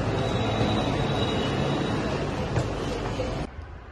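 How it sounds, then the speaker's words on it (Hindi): A metro train rumbles close by with a loud, steady broadband roar that drops away abruptly near the end. "अभी हमारा आ गया मेट्रो"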